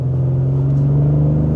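A 2025 Ford Explorer Active SUV pulls out of a corner on tight back roads, its engine giving a steady, loud, low rumbling drone that holds an even pitch, with no voices heard.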